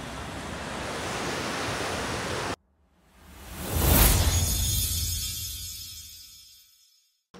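The Dhauliganga and Alaknanda rivers meet at a Himalayan confluence, making a loud, steady, roaring rush of water that breaks off, then surges back and slowly fades, with no voices.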